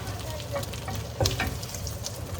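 Pork being toasted in a frying pan, a steady close sizzle with small crackles and one brief scrape or clatter in the middle, with no clear talk over it.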